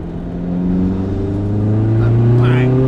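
A Skoda Fabia vRS diesel accelerating hard in third gear from about 40 mph, the engine note climbing steadily in pitch and loudness, heard from inside the car.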